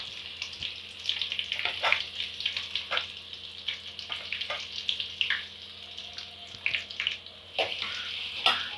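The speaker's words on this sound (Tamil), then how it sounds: "வெங்காயம் நல்லா கோல்டன் ஃப்ரை ஆகிற வரைக்கும் வதக்கி விட்டுக்கணும்." Sliced onions frying on high flame in oil for egg podimas biryani, a steady crackling sizzle broken by sharp pops and stirring scrapes throughout, close and fairly loud.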